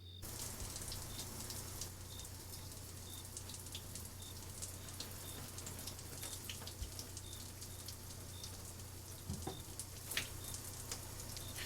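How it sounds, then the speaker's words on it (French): Dishes being washed under running water at a sink during a night shift, a steady broadband splashing and hiss with small clinks and drips throughout, fairly close and continuous, with no talking. "Faire la vaisselle."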